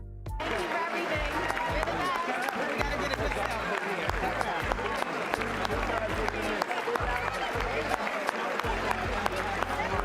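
Sustained audience applause in the chamber at the State of the Union address, a dense continuous wash of clapping that carries on at steady loudness from start to finish with crowd noise beneath it.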